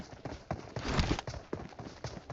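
Horse hooves clip-clopping steadily in the video game PUBG Mobile, a continuous close rhythmic trot with loud, regular hoofbeats and no talk.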